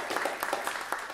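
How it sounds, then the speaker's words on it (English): A short burst of applause at a high school jazz band concert following a trombone solo, a crowd clapping steadily with a dense, crackling texture and no voices. "Give another round of applause to Hayden, our trombone soloist."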